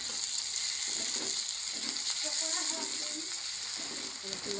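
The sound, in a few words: garlic paste frying and being stirred with onions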